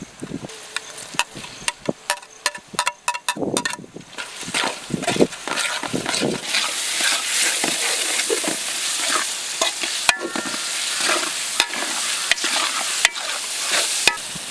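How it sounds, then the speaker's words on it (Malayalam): Chopped tomatoes are stirred into sautéed onions in a hot pan for chicken dum parotta, with clinking, scraping spoon strokes at first giving way to a steady, close sizzle. "അപ്പോൾ ഉള്ളി നന്നായി വണങ്ങി വന്നിട്ട് നമുക്ക് ഇതിലേക്ക് തക്കാളി ഇട്ട് കൊടുക്കാം"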